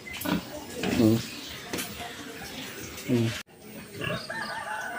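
Short, squealing pig calls come in two brief bursts over a busy farmyard background behind a house in La Union, Philippines, with some rustling and a distant voice.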